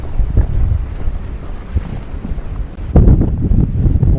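Strong, gusty wind buffets the microphone on a waterfront fishing dock in New York City, roaring in uneven low rumbles that swell sharply toward the end.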